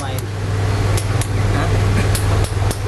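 Metal hammer strikes at a farrier workshop, a few sharp taps spaced irregularly over a steady loud hum of fans or machinery.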